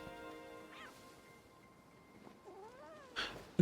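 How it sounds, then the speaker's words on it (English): A cat meows twice in the Wuthering Waves video game, a short rising cry early and a longer wavering meow near the end, both fairly soft over quiet background music. "Kitty!"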